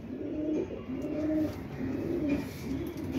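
A pigeon coos close by in a pigeon loft, giving a series of low, rolling coos that repeat in a steady rhythm with no talking over them.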